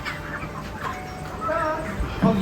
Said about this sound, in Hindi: ये है यहाँ का मुर्गी फार्म